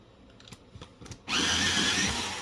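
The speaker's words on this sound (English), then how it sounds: "So this has already been sharpened once, and I just had to sharpen it again." A soft coloured pencil being resharpened, probably in an electric sharpener: a few light clicks and taps, then a sudden loud, steady grinding whir lasting about a second, heard close up.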